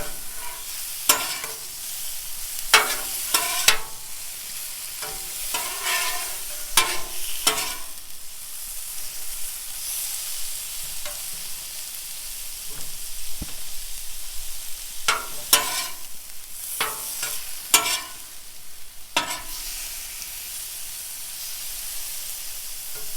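Cheesesteak meat and garlic sizzle on a Blackstone griddle while a metal spatula scrapes and tosses them in quick bursts, close and steady, over a constant frying hiss.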